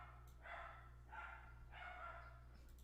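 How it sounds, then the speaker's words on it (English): Dogs barking in a room, three spaced bursts of barking at moderate distance over a steady low electrical hum, with no talking. "Excuse the dogs."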